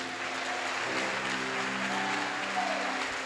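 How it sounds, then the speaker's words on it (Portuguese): A church congregation claps in praise during a worship service, dense steady applause filling the room throughout, with a sustained musical tone underneath. "Pode aplaudir o Senhor."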